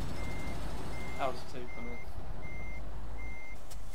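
A truck in Euro Truck Simulator 2 reverses with an evenly spaced series of electronic reversing beeps over a low engine rumble, while someone talks and laughs on top of them.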